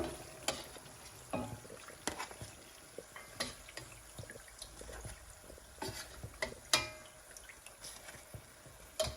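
Chicken kachori frying in hot oil over medium heat, a steady close sizzle broken by scattered clinks and stirring knocks, with no talk.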